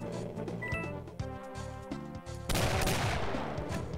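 Shotgun blasts in the retro-style shooter The Golden Souls, loud booming shots in quick succession followed by a dense burst of gunfire, with game music underneath.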